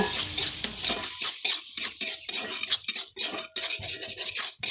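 Curry with cumin powder being stirred in a pot, giving a steady scraping and rubbing of a spoon against the metal in irregular strokes, close and moderately loud with no talking.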